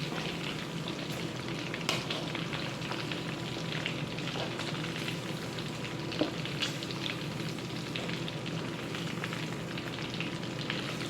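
Shrimp fry in hot oil in a pan with a steady close sizzle and crackle, broken by occasional sharper pops, and no one speaking.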